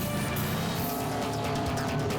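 Dual-engine open ocean racing speedboats at full throttle in a final off Montevideo, Uruguay, a loud, continuous engine roar that stays dense and unbroken throughout.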